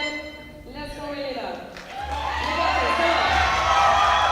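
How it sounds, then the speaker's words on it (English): A hometown crowd at the European Open Classic Powerlifting Championships cheers and shouts encouragement for a women's 47kg lifter from Malta, the noise swelling into a sustained roar of voices and whoops after a quieter start with a tonal sound. "you can hear the hometown crowd cheering her on"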